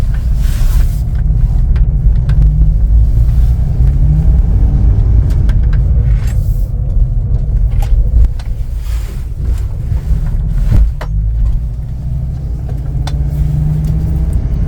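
Loud, steady engine rumble of a custom-built Fiat on the move, with wind buffeting and intermittent knocks and rattles from loose interior parts over the drone.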